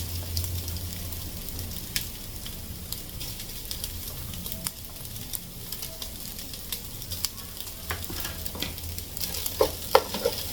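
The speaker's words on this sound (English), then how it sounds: "So you just want to start spooning in the rice." Cooked rice spooned in batches into a hot pan for lobster and chicken fried rice, a steady close sizzle with light scraping and occasional spoon taps, growing a little busier toward the end, no talking.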